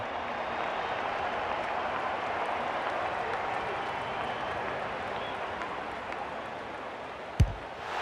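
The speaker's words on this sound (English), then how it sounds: "The crowd noise tells you all you need to know." Steady crowd roar and applause fill an AFL football match after a scoring passage of play, a dense continuous wall of cheering with one sharp thump near the end.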